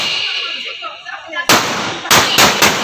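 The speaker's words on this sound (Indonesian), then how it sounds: "Petasannya dikalungin dia. Petasan begitu besar sekali." Large firecrackers strung around a man's neck go off at a wedding procession, several sharp loud bangs in quick succession after a stretch of background crowd noise and voices.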